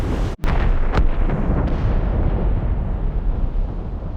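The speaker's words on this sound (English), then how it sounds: "Cannon fire. Deep within the fog." Distant cannon fire booming through fog in the video game Assassin's Creed Rogue, a sharp blast followed by a long, heavy rumbling roll that slowly fades, with no talk.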